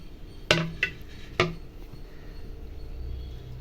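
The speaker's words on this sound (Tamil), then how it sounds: "இதை ஓப்பன் பண்ணி பார்த்துடலாம்." A lid lifted off a covered vessel of soaked semolina, three sharp clinks of metal or glass in quick succession, close and fairly clear, followed by quiet.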